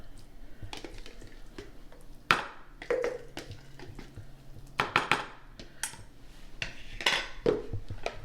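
Cooled pasta mixed with mayonnaise in a bowl for a summer salad, heard as scattered spoon clinks and soft scrapes against the bowl over a low background hum, with short irregular bursts.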